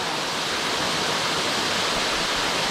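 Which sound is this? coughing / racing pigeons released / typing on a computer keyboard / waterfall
waterfall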